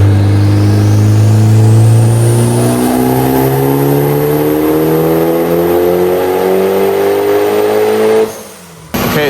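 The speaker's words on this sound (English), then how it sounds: "that's the first run on pump gas." Mitsubishi Evo on a stock block with a large turbo, pulling hard on a dyno on pump gas: a loud, rising engine wail climbing steadily in pitch for about eight seconds, then cutting off abruptly.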